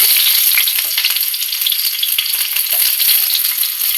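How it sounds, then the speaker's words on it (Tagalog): Onion, garlic and spices hit hot oil in a pan, giving a loud, close, continuous crackling sizzle with dense popping throughout and no voices. "nya ato na ilunod kay init na mantika"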